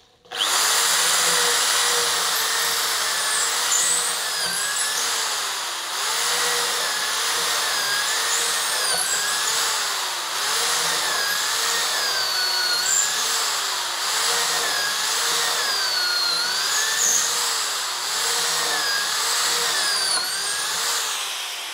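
A power drill fitted with a stock Inco 10 mm wood bit bores into hard bengkirai timber, giving a steady, loud, continuous whine and grind that holds for over twenty seconds with no talking.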